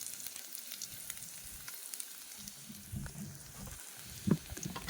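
Garlic sizzles as it hits a hot pan, a soft crackling fry that stays fairly faint with small pops and one louder sputter near the end.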